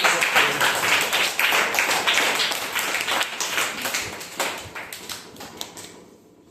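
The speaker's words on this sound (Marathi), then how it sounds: "तिचे जोरदार टाळ्या." Prize announcement at a Marathi school quiz event: a crowd of children and adults claps hard for the winner, a dense close burst of rapid claps that gradually thins out.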